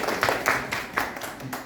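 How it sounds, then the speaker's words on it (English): A classroom of students claps briefly, with a few soft, scattered claps in quick succession at moderate distance. "Give yourself a clap."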